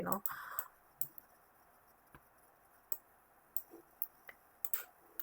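Scattered soft clicks and taps of computer keyboard keys, irregular and sparse, with a quiet background and a brief muffled bump at the start.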